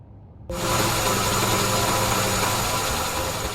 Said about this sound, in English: The engine is making noise.